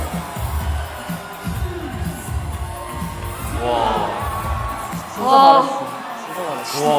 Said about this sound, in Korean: 이때 환호성이 제일 컸어요